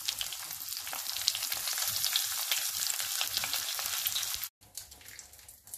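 Katla fish pieces fry in hot oil in a pan, giving a dense, steady sizzle with crackling spits, close and continuous, which briefly cuts out near the end before a softer sizzle resumes.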